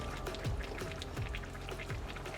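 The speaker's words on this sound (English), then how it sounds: "The coconut milk has been added" Thick coconut milk pours into a cooking pot for chicken pelau, giving a soft, close, gurgling pour with a few faint drips, no talking.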